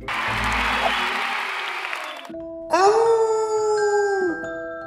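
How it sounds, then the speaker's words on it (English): A cartoon werewolf gives a long, loud, wavering howl that rises then holds, following a burst of crowd-like noise, with no talk during the howl. "I couldn't hear you over all the howling"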